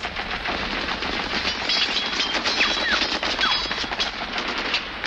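Heavy gunfire aimed at aliens, a dense rapid burst of automatic shots rattling continuously and loudly, close, without voices.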